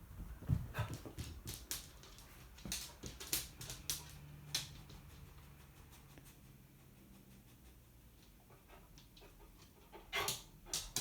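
A dog sniffing around while searching for a hidden object, with quick snuffles, soft panting and small whimpers, close by in short bursts with quieter gaps between.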